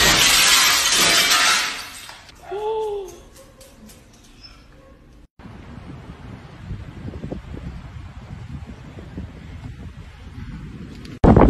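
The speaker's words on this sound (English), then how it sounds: "And you're out here smashing bottles." Glass bottles smashed outdoors: a loud shattering crash in the first two seconds, then a quieter tinkling burst, followed by steady wind and background noise.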